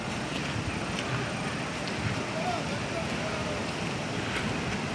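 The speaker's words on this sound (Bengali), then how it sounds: "জলের স্রোতটা দেখাই, যদি দেখানো সম্ভব হয়।" Fast-flowing river water rushes in a dense, continuous roar close by, mixed with wind buffeting the microphone.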